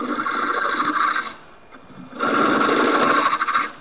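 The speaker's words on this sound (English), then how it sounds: "I'm going to go with a scraper just to get that divot out of the center that's in there." A lathe scraper cuts into a punky firewood scoop spinning on the lathe, making a buzzing, rasping scrape in two bursts separated by a brief quieter pause.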